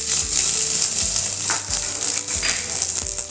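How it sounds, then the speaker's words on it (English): Chopped onion frying in a pan with ginger, garlic and green chilli hisses loudly and close by, a dense continuous sizzle broken by faint scraping and knocking. "fry until the onion turn light pink in color"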